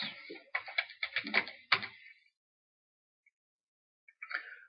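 A quick run of close computer-keyboard keystrokes, a rapid flurry of crisp clicks lasting about two seconds, then silence and a brief few more taps at the end.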